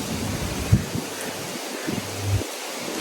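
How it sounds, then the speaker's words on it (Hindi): Morning wind blows steadily outdoors, a soft continuous rushing with faint rustling and a couple of small bumps against the microphone, no talking. "तो सुबह इतनी बढ़िया हवा चल रही है"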